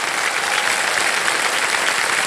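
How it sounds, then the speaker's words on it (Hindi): Steady, dense applause from a studio audience on the KBC quiz show set, loud and close, filling the whole stretch with no voices over it. "तालियां बजते रहे इनके लिए।"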